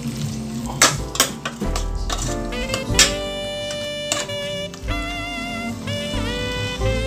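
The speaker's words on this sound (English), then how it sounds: "I'm going to stir this nicely." Chicken curry with bottle gourd stirred in a metal pot, a spoon scraping and clinking against the sides in irregular strokes over a soft sizzle, close and clear with no voices.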